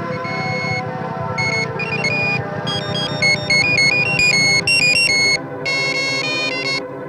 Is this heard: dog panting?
no